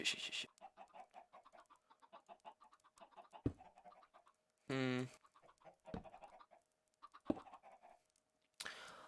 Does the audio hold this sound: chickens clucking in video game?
yes